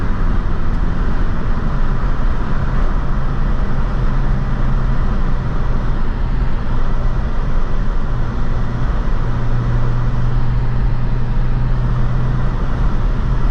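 A BMW E46 M3 with roughly 320 horsepower drives along, its engine and road noise forming a steady, loud drone with a rising tone late in the run and no talk over it.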